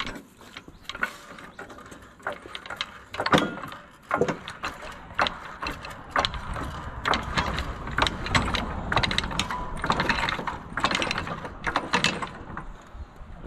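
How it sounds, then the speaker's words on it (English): A wrench works bolts loose on the raised deck of a zero turn mower, giving irregular ratcheting clicks, metallic clanks and scrapes at close range, in bursts with short pauses. "So you're just going to be taking these bolts off here."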